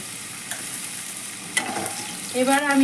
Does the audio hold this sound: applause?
no